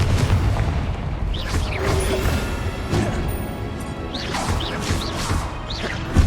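Confringo, an explosive spell cast in Hogwarts Legacy, bursts with sharp blasts and crashing impacts among whooshing spell effects and shimmering tones, several hits spaced across a busy battle.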